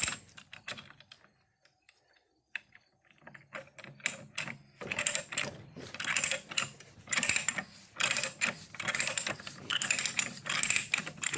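Harbor Freight pipe threader die being unscrewed from a threaded pipe, close irregular ratcheting clicks and metallic scraping coming in quick bursts.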